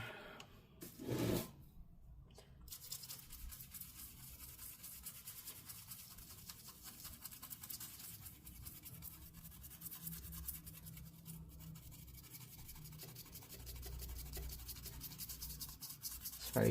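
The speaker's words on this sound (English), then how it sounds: "let me clean this gunk out with the toothbrush real quick" Scrubbing with a toothbrush inside a Dell Alienware M15 R3 laptop to clear out gunk, a steady close rubbing and scratching that runs continuously at low level.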